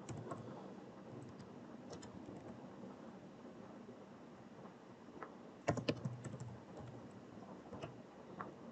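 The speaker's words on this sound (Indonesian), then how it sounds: "Kita gunakan terminal, kita ketikkan perintah composer require" A computer keyboard is tapped in short bursts of clicks while a terminal command is entered for a Laravel project, quiet and close, with a louder cluster of keystrokes midway.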